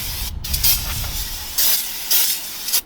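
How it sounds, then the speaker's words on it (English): Aerosol brake cleaner sprayed onto the rear brake rotor of a 2011–2017 Honda Odyssey in several short bursts, loud close hissing blasts with brief pauses between them, over a low background rumble. "I'm gonna spray the outside of the rotor"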